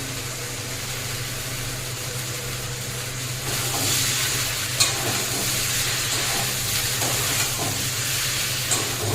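Mustard and cumin paste frying with greens in a pan, a constant close sizzle that grows louder midway, with occasional stirring clinks and a low steady hum underneath.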